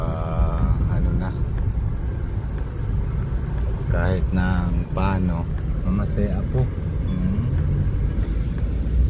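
Steady road traffic and engine drone while trailing a jeepney and a tricycle, loud and continuous throughout, with people talking over it.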